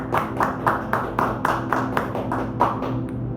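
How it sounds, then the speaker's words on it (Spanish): In a church service, a congregation claps in a steady rhythm, roughly two beats per second, over a low sustained musical backing that fades out at the end. "Dale ese aplauso a Jesús."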